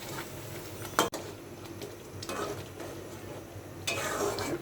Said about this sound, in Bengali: এখন ভালোভাবে কষিয়ে নেব।